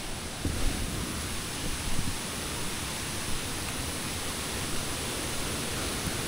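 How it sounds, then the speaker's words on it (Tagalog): Strong river current rushing steadily nearby, a dense, continuous roar of flowing water with no pauses and no voices. "Oh, lakas ng agos."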